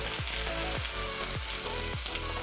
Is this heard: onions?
yes